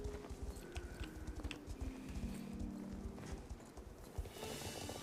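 Horse hooves clip-clop in the Star Stable video game, a steady quick rhythm of close, even hoofbeats running continuously with light background game sounds and no talking.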